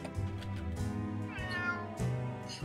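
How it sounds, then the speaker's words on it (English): A house cat meows several times in a row during a live party-game stream, each cry drawn out and rising, close and clear with no talking over it. "Suddenly, real cat."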